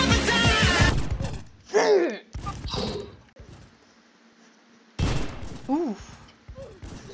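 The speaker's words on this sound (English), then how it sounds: "I'm shooting my own teammate" Revolver gunfire in the online shooter Wild Revolvers comes in sharp, loud cracks and short volleys, scattered between excited voices talking and exclaiming over the action.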